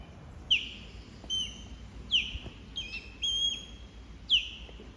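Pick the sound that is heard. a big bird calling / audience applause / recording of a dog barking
a big bird calling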